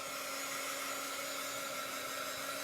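A hair dryer heat-setting Chalk Couture ink on a tea towel runs as a steady, close, loud whoosh of blown air with a constant motor hum, unbroken for the whole stretch.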